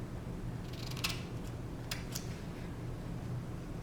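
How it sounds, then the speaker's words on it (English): A few quick scissor snips trim a quarter-inch edge on card paper for a man's birthday card, sharp and close against a faint steady hum, with no one talking. "I'm just going to snip"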